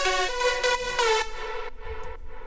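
A bright supersaw lead synth built in Serum plays a few sustained, rich notes that shift pitch, then a quieter tail with a low thump underneath; no talking.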